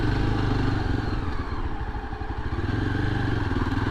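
A motorcycle rumbles steadily at close range while it is maneuvered into a parking spot outside a cafe, with a continuous low engine drone and light mechanical clatter throughout.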